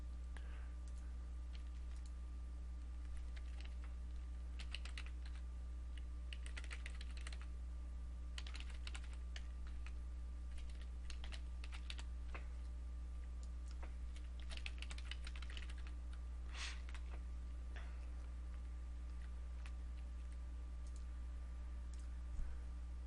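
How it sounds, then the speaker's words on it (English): Typing on a computer keyboard: quiet, irregular bursts of key clicks over a steady low electrical hum, with no voices. "Right now I'm typing all kinds of characters in here"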